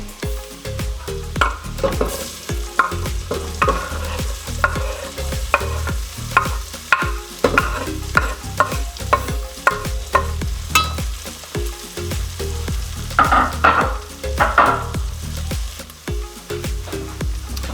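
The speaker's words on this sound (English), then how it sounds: "So once you have the onions and the garlic cooked down" Onions and garlic sautéing in a pan for shrimp fettuccine, a steady close sizzle punctuated by frequent rhythmic scrapes and clacks of a utensil stirring against the pan throughout.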